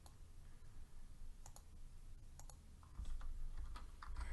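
Light, scattered clicking of a computer mouse while working in the Scratch programming environment, faint and close, with a few quick clusters of clicks and a quiet background hum.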